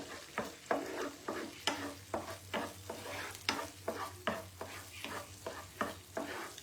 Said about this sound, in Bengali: যতক্ষণ না কাঁচা ভাবটা যাচ্ছে ততক্ষণ অবধি নাড়াচাড়া করতে হবে।